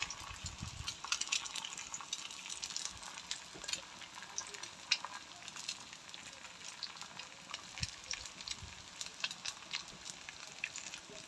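Food frying on a tawa griddle for a home breakfast: a steady, close crackling sizzle with brief spits and pops that runs throughout, with no voices over it.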